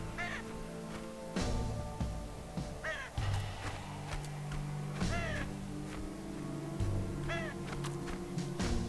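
Crows in The End is Nigh caw repeatedly, harsh single calls every second or two over a looping low music bed of steady tones and percussive thumps.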